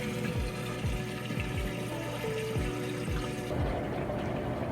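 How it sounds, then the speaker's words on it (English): A Whirlpool Amana top-load washer pumps water out during its drain cycle, a steady mechanical hum with gurgling flow and a series of soft regular clunks, close and continuous. "it's running the drain now. Draining that water out."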